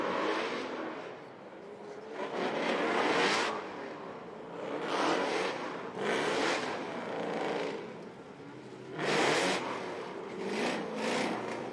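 Kelsey Rawlings' Formula Drift car engine revs in repeated loud, broad surges, rising and falling through several pulls of throttle at a competition event, heard from a distance without talk.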